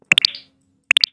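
A Scratch 3 sound effect played back with its pitch raised: two quick bursts of three bright, snappy clicks, separated by a short silence and heard alone.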